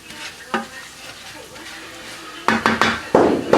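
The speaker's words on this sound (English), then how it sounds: "our garlic is just beginning to brown. So I'm going to add in the salt and the pepper. Give that a stir." Garlic browning in a pan sizzles with salt and pepper added, then gets stirred, bringing close scraping and clattering against the pan that grows louder and busier toward the end.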